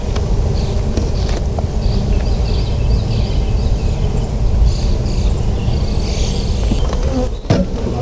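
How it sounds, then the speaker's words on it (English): Dense, continuous buzzing of many bees in an opened hive, loud and close, a steady droning swarm that hardly varies throughout. "Bees in here,"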